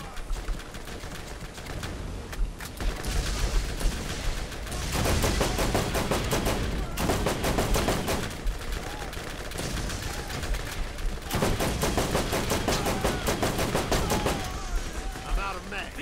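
Gunfire in the video game Borderlands, long stretches of rapid automatic bursts broken by short pauses, loud and close, with voices talking over parts of it.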